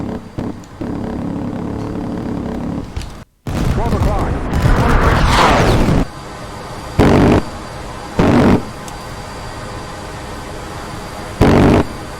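F-14 fighter's M61 Vulcan 20mm rotary cannon firing in the DCS flight simulator: several loud, buzzing bursts, one long and three short, over a steady cockpit and engine drone.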